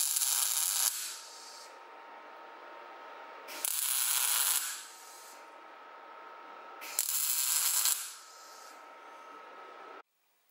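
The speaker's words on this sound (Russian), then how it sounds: "Я их сейчас приварю здесь." Two metal plates are welded onto a homemade electric file, with three separate bursts of hissing, crackling arc of about a second each, separated by a steady electrical hum, then silence.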